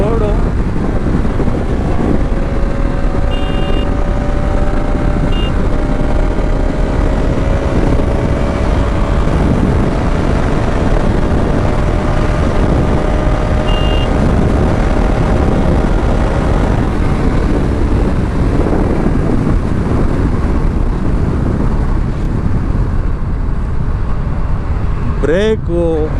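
A Bajaj Pulsar RS200 motorcycle cruising at speed on an empty road, engine whine steady and rising slightly, buried under heavy continuous wind roar; a rider talks over it throughout.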